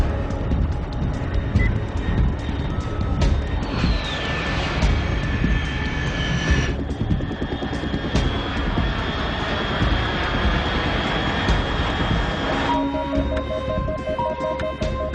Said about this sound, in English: Unidentified aircraft detected.